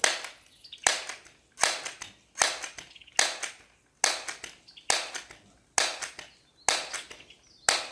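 Repeated pistol shots on a range, nine sharp cracks spaced under a second apart, each decaying quickly, loud and close with no talking.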